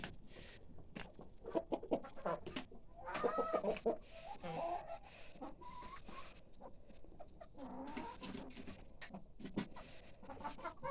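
Chickens cluck and chatter close by in a busy flock pecking at a bucket of corn cobs, with short repeated calls rising and falling over scratching and rustling.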